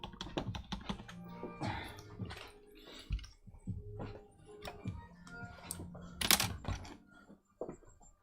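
Someone types on a PS2 computer keyboard at close range, a quiet run of irregular clicks and key taps with brief pauses and one sharper clack near the end.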